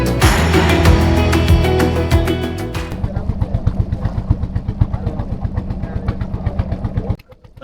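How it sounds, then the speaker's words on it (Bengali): A small engine-powered river boat used for crossing the river at Birishiri: a loud, busy engine roar at first settles into a close, regular thumping idle, then cuts out abruptly near the end. "এখান থেকে আপনারা নদী পার হওয়ার জন্য একটি ছোট নৌকা পাবেন ইঞ্জিন চালিত।"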